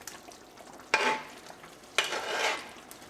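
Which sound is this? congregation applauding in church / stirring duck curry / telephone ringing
stirring duck curry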